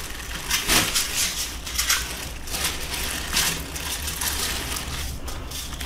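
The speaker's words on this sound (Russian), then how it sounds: "Потому что эти пакеты, конечно, шуршащие." Plastic packaging bags holding cross-stitch supplies rustle and crinkle close up in loud, irregular bursts of crackling handling noise.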